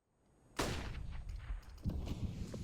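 A couple of distinct gunshot cracks in a CS:GO pro match, each with a ringing tail, set against faint background game noise.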